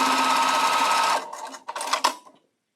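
A sewing machine stitches quilt block units in a fast continuous whir for about a second, then stops, followed by a few short bursts of handling and fabric rustle before silence.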